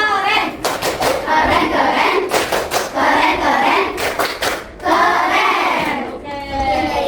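A group of people, including children's voices, performs a rhythmic clapping chant in bursts of sharp, synchronized claps mixed with shouted voices, loud and close.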